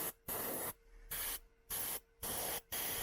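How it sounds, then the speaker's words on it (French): Air from a loosened Amazon airbrush gives a steady broadband hiss that comes in bursts. It cuts off and restarts about five times in three seconds, close but quiet. "quand on desserre ici, vous voyez tout de suite on entend qu'il y a beaucoup d'air."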